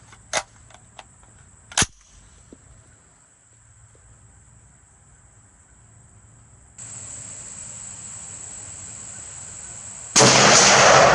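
K1A1 rifle shots fired outdoors: two sharp, loud cracks close together early on, followed by a steady high insect-like drone and rising broadband noise near the end.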